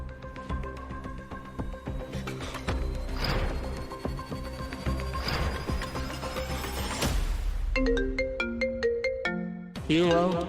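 A new mobile phone plays its ringtone loudly and close by, a bright repeating melodic pattern of tones that runs for about ten seconds with short breaks and changes of phrase toward the end.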